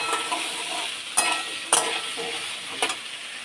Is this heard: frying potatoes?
yes